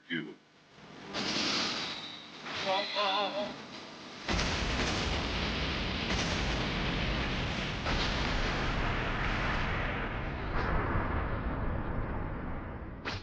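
An explosion in the Dragon Ball The Breakers video game erupts as a loud, sustained broadband roar that rumbles on for several seconds after a short build-up of energy effects.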